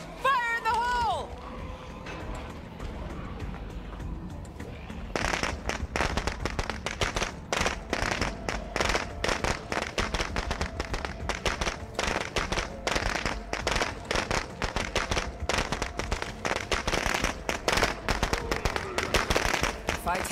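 Explosive going off in State of Decay 2, a dense run of sharp crackling bangs and pops that begins after a quiet opening and keeps going, loud and close, like a string of firecrackers.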